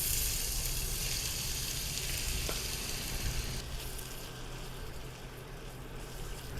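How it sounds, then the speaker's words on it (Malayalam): A blended spice paste fries in hot coconut oil for a homemade chicken curry, giving a loud, constant close-up sizzle and crackle with faint stirring scrapes and no talking. "എണ്ണ നല്ലവണ്ണം ചൂടായിട്ടുണ്ട്. ഇനി നമുക്ക് ഈ മിക്സിയിൽ അടിച്ച സാധനങ്ങൾ എത്ര അങ്ങോട്ട് ഇട്ട് കൊടുക്കാം"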